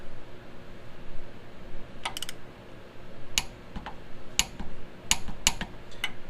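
A torque wrench clicking while tightening a tie rod on an Envoy or Trailblazer, heard as sharp, separate metallic clicks in small groups over a low workshop hum.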